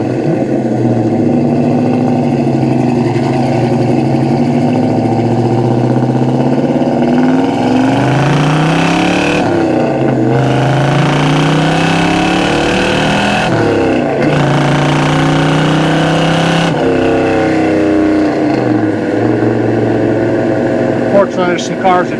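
Restored 1968 Chevrolet Chevelle SS 396 big-block V8 accelerating on a test drive, a loud, close in-car engine roar rising through gears with shifts and dips in pitch, continuous with someone talking over it.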